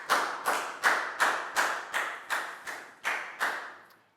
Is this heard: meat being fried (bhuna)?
no